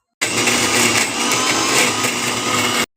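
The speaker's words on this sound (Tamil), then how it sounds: "கடலைப்பருப்பு ஊறினோன்னே ரெண்டுத்தையும் மிக்சியில் போட்டு அரைக்கணும்." Electric mixer grinder whirring steadily as it grinds soaked chana dal with chopped banana flower for vada batter, a loud continuous motor drone running about two and a half seconds and stopping abruptly.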